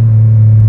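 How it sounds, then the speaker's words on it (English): Renault Clio V6 mid-engine hot hatch exhaust burbling on a downshift, a steady loud low rumble close to the microphone lasting under a second, with no voices. "And what I really like about the exhaust sound is the burbles you get."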